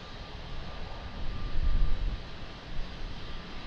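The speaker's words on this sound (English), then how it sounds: "Wow, beautiful Etihad 777." An Etihad Boeing 777 airliner rumbles at Lisbon Airport, a faint low roar that swells midway and then eases back, with steady broadband hiss and no voices.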